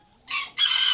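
Rooster crowing among farm animals such as rabbits, turkeys, ducks and geese, two bright crowing bursts close by with a brief gap between them and no talk.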